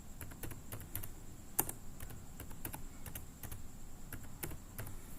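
Typing on a computer keyboard: quiet, irregular clicking keystrokes in quick bursts with short pauses, close by and with no voices.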